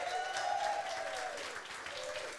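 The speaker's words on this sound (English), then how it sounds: "Give it a big round of applause." A studio audience applauds for makeup artist Michelle Leggett, a dense, steady wash of clapping that stays fairly loud throughout, with a faint sustained tone running beneath it.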